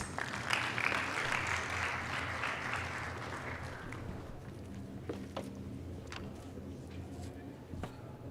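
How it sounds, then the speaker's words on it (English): A conference audience applauding its panelists at a national antimicrobial resistance meeting in Kigali, Rwanda: a faint, fairly distant burst of clapping that fades after about four seconds, leaving scattered claps and room noise. "Join me to give a big applause to our panelists."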